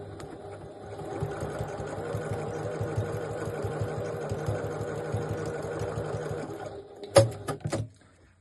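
Sewing machine running steadily while stitching a very scant 1/2 centimetre seam on a three-zip crossbody bag, a continuous mechanical whir for about seven seconds before stopping, followed by a few brief clicks and handling taps.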